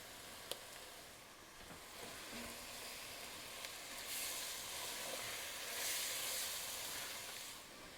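Sofrito and tomato paste sizzle in a pot for a Puerto Rican chicken stew, a steady close-up frying hiss with faint crackles and a few light clinks, no talk.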